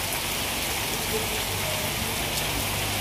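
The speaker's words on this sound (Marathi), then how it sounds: "हे बघा पाऊस किती चालू आहे. खूप असा पाऊस चालू आहे" Dense, steady rain pours down in a continuous broadband hiss, loud and close, with no distinct voices over it.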